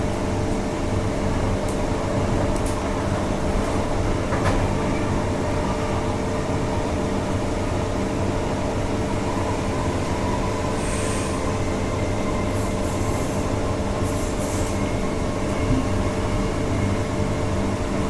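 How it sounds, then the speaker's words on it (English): A train rumbles past at Perth Stadium Station, a continuous heavy roll with occasional faint high squeals from the wheels, no talking. "Another train."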